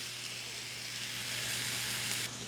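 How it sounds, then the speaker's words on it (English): Pork roast sizzling in a pan for carnitas, a steady close hiss of fat and juices that holds evenly throughout, with no talking over it. "Don't you love that sizzle?"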